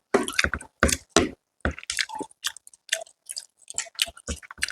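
Close, wet chewing and squishy biting of fish curry at a hotel in Digha, coming in short, uneven bursts with brief pauses between mouthfuls.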